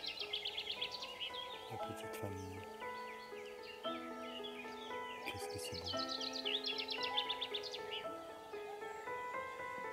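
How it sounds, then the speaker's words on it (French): Birds sing and chirp softly around a waterside spot, several overlapping calls with repeated trills and whistles, distant and gentle against a faint hum. "Les oiseaux discrets mais présents offrent une bande-son authentique"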